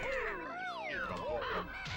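Birds in the video game Banjo-Kazooie give a rapid run of harsh, warbling caws and squawks that sweep up and down in pitch, loud and close over game sounds.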